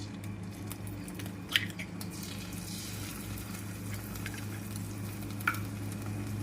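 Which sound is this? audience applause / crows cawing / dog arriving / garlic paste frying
garlic paste frying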